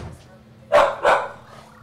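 A dog barks twice in quick succession during a Mario game marathon, sharp and fairly close, over a low background hum.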